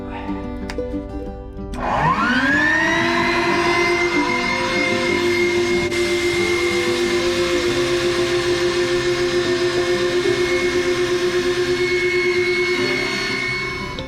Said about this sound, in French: On va gonfler maintenant le boudin.